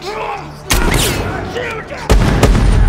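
Loud gunshots crack out in a tense action movie scene, two sharp blasts standing out over a din of shouting voices and background commotion.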